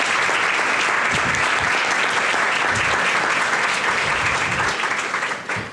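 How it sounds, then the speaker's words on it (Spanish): An audience claps steadily and densely throughout, a full room of applause that holds strong and only begins to thin at the very end. "Un aplauso."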